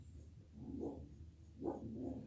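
A dog named Ruby barks indoors at home, two or three short muffled woofs spaced apart, fairly faint and low against a quiet room.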